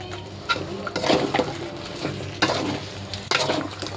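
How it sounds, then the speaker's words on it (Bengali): Masala chicken, already fried with oil and onion and splashed with water over raised heat, sizzles and is stirred briskly in a pan, with a continuous close frying hiss broken by scraping strokes of the spoon. "এবার এটা ভালো করে কষে নিতে হবে নাকি?"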